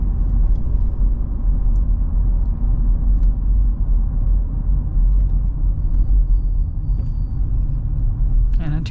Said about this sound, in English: not too bad going over the little bumps and everything